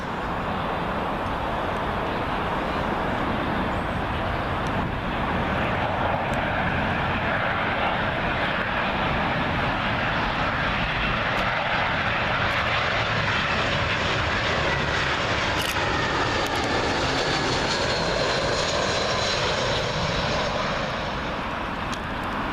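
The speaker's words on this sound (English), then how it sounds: "Next up, we've got a Eurowings A319, and this one from Stuttgart." Landing at Heathrow on runway 27L near Myrtle Avenue, a Eurowings Airbus A319 from Stuttgart passes low with a loud, steady jet roar that fills the whole span and thins slightly as it moves away.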